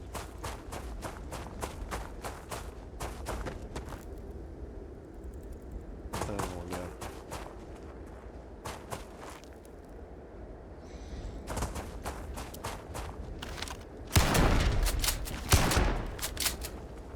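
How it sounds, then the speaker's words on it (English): Gunfire from the Furious Old Earth shotgun in the video game Starfield, with rapid bursts of shots spread through the clip, the heaviest blasts near the end, alongside footsteps and game ambience. "Furious old earth shotgun"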